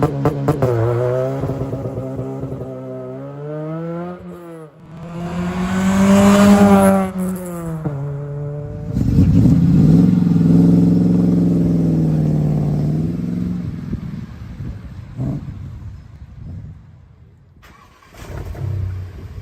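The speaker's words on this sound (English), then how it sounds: "what about maybe some of the performance and hot hatch type cars we've featured on the channel over the years? Let's have a listen to some of those with a pop and a crackle." Performance hot hatch car engines rev hard one after another, rising and falling through the gears with pops and crackles between pulls, loud and close with brief gaps of near silence.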